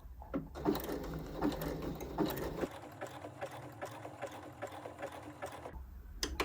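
A sewing machine fitted with a button-sewing presser foot stitches at close range, giving a fast, rhythmic mechanical chatter that pauses briefly near the middle and then resumes, with no voices.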